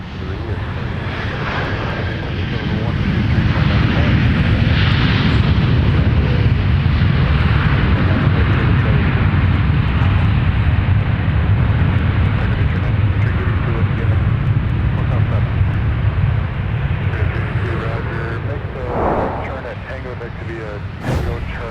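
A Delta jet at MSP airport powers up for takeoff, a loud sustained jet-engine roar that swells after a few seconds and holds steady before easing slightly near the end, with talk faintly underneath.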